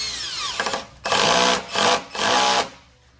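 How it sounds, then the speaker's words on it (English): A power drill drives screws while an Upper Deck Seating System seat is installed, three loud bursts of whirring, each about half a second to a second long, separated by short pauses, close by with no talking. "But of course, using a drill makes it a lot easier and faster."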